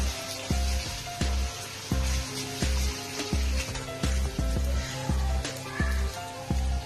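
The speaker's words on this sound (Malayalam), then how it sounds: "നമ്മുടെ ബീഫ് എന്തോരം പൊരിഞ്ഞിട്ടുണ്ടെന്ന് നമുക്ക് നോക്കാം ആ ഇപ്പൊ ഏകദേശം പൊരിഞ്ഞിട്ടുണ്ട്" Pieces of beef fry in a pan with a steady sizzle, punctuated by rhythmic regular clanks and knocks about every half second, close and fairly quiet.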